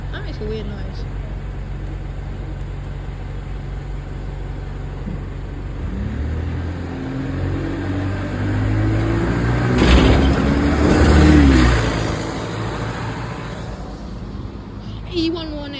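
A London bus engine rumbles nearby and builds into a deeper, louder accelerating drone that peaks and then fades, over steady street background noise.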